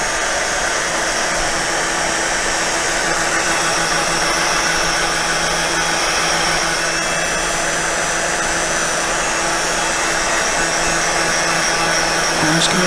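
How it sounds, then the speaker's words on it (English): A heat gun blows hot air over a stamped paper card, a loud, steady, broadband roar that holds unchanged from start to finish, close to the microphone with no talking over it. "this is an awful lot of heat gun noise"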